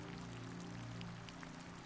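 Soft, continuous rain plays as bedtime background, a steady, even hiss of falling water with no breaks or distinct drops.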